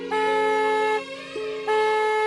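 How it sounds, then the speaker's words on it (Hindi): A car horn honks in two long, loud blasts with a brief pause between them, no voices present. "वरना बरू काका हॉर्न बजा बजा के सारे गांव के कुत्ते पागल कर देंगे"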